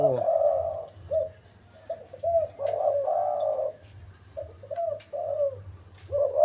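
Near, loud cooing from a trained decoy dove, with rolling phrases repeated in uneven bursts and short gaps, set against a constant low background hum and no talking.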